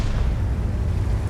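An artillery shell striking a tank in World of Tanks, a dense low booming rumble that stays loud and heavy for the whole short stretch, close by and not broken up by any talk.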